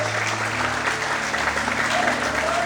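A church congregation claps together in steady, continuous applause during a sermon, dense and fairly loud, with voices and a low sustained tone underneath.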